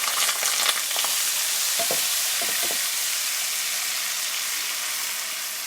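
Tomato paste hits hot ghee with a loud, dense, continuous sizzle, close and bright, with a few low knocks of a spoon in the pan early on.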